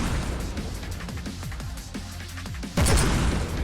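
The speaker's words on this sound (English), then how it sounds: "Slime gun activated." Blob launcher slime gun firing in Ravenfield, a string of soft popping bursts at a steady rhythm, ending in one louder, heavier blast near the close.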